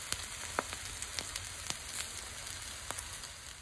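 An egg, already turned over, fries in a skillet beside peppers, a quiet steady sizzle broken by a few sharp crackling pops, with no talking.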